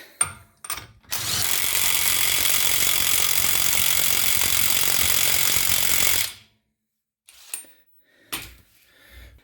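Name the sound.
impact wrench tightening BMW E46 axle nut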